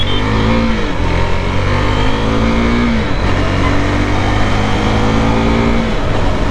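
A KTM RC 390 motorcycle engine revs hard while accelerating, a loud, close, steady high-pitched drone with rising pitch sweeps as it pulls through the gears.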